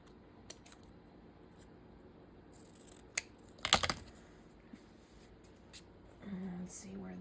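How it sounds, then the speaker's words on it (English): Scissors trimming white paper from around a stamped cut-out, giving a few soft snips and a sharper burst of cutting, close and quiet, with a voice speaking briefly near the end. "Trim some more white off of it."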